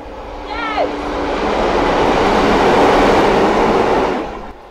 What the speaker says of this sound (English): I'm going to wait for a train to come by